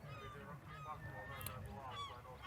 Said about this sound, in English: Maybe you can hear the seagulls on the background.